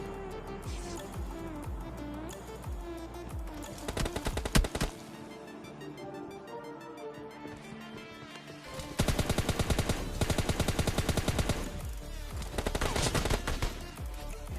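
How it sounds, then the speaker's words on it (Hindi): M16 rifle fire in a battle royale game squad fight: rapid bursts of gunshots crackle in several clusters, loud and dense, mixed with game effects and softer lulls between volleys. "तभी हमें सामने से M16 चलने की आवाज़ आती है"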